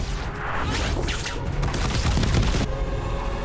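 A detonation combo explosion in Dragon Age: The Veilguard lands as a burst of crashing booms and whooshing impacts that swell and then cut off abruptly, followed by a quieter tail of game ambience.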